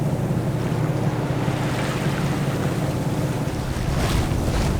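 A sailboat motoring at about six knots through open-ocean waves off Moorea, its steady low engine drone blending with a constant rush of water and heavy wind buffeting the microphone, loud and unbroken throughout.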